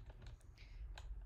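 Computer keyboard typing: a quick run of light, close key clicks, a few taps spaced irregularly over a steady low background hum.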